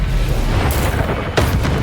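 A heavy booming blast from the Confringo fire curse in Hogwarts Legacy, loud and close, followed by a sharper second burst near the end of a short moment.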